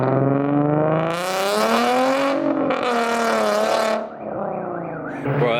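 A vinyl-wrapped Infiniti G35 pulls away with a loud, rasping engine note, revving hard through rising and falling pitch sweeps for several seconds before a brief lift and another surge.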